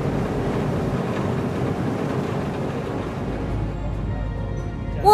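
Indonesian navy patrol ship KRI Celurit under way at sea, a steady broadband rumble of engine and water with wind buffeting the microphone, continuous and loud for the whole stretch.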